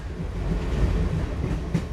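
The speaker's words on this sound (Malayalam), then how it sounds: "നമുക്ക് വീണ്ടും കൊല്ലം ചെങ്കോട്ട ട്രെയിനിലേക്ക് തിരികെ വരാം." Steady rumbling of the Kollam–Sengottai passenger train running on rails, with faint rhythmic wheel clatter and a brief louder knock near the end, heard from inside the carriage without talk.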